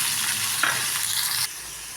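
Steady sizzling of chopped onions with green chillies and tomatoes sautéing in a pan, with a brief stir in the middle before the sizzle drops quieter.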